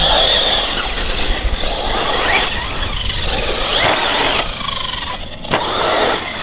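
ARRMA Typhon and Hobbyking BZ-888 RC cars with a Castle 2400kv motor racing, a loud high electric motor whine that swells and fades as the cars pass, steady and close throughout.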